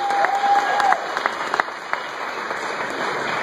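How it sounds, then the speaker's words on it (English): Audience at a short film cast and crew Q&A applauds steadily, a dense wash of clapping with a few sharper claps standing out, fairly close and without talk. "So I get a round of applause for all the folks here that are also helping us tonight."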